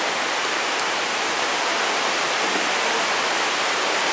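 Heavy rain in Yamato-Takada during a heavy rain warning, a dense, loud, unbroken roar of downpour, steady and close throughout with no voices.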